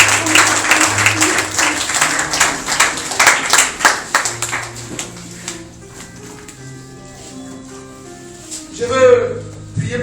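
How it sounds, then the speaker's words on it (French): A church congregation at a Sunday service applauds in a dense burst of clapping that fades after about five seconds, with voices and a sustained musical tone continuing beneath and a brief louder swell near the end. "On acclame le Seigneur Jésus."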